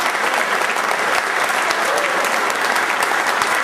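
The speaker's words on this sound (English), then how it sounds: "How about a big round of applause for Guy" Audience applause for Guy Glodis, a steady dense wash of clapping from a crowd, loud and sustained throughout without a break.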